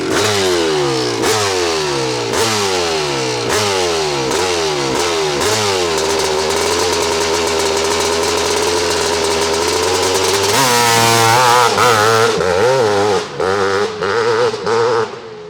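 Kawasaki KX500 two-stroke motocross bike revving hard, its loud raspy engine rising and dropping repeatedly as it climbs through gears, then holding a sustained high scream before backing off with sputtering blips near the end.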